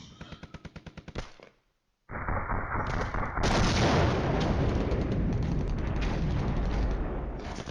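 Artillery fire in the Flashpoint Campaigns Cold War strategy game: a rapid run of sharp shots, a short silence, then heavy booming barrages that build into a loud, sustained rumble of impacts.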